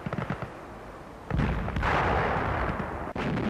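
Scattered sharp gunshots give way to sustained heavy tank cannon booming and rumbling fire, loud and dense, with a few sharper cracks.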